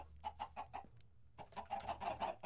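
Minecraft chickens clucking in a video game, a run of short repeated clucks that pause briefly, then resume in a denser burst, fairly close and alone.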